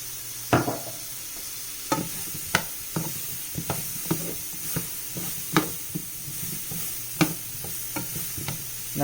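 Shrimp and broccoli are stir-fried Hunan style with a little sesame oil, with a sizzling hiss broken by repeated sharp scrapes and clanks of a utensil in the pan, close and without talk.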